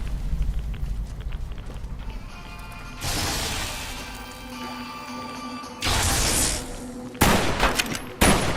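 Shotgun blasts from Fallout: New Vegas (Lonesome Road), with three loud booming shots in quick succession near the end, following a stretch of quieter rumbling and game ambience.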